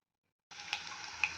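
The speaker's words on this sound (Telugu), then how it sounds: "ఇలా నూనె పెట్టేసుకొని నూనెలో ఇవన్నీ వేసుకున్నాను" Tempering spices such as garlic and dried red chillies sizzle in hot oil for leafy-greens dal, a steady close hiss starting abruptly after a short silence, with a couple of faint ticks.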